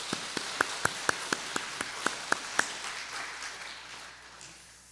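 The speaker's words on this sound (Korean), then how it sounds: "수고할 분들 격려하고 축복하며 박수 한번 하십시오." A church congregation applauds during a Sunday service with a series of about a dozen sharp, evenly spaced claps standing out, fading into softer scattered clapping and a hall-like wash that dies away.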